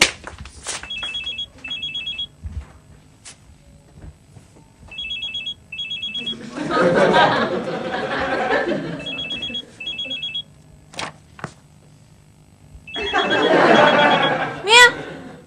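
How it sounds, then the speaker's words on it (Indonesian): Telephone ringing indoors in a home sitcom scene, repeated short electronic trill bursts in several groups, with loud noisy sounds and people talking between rings. "Mil, telepon lu, Mil."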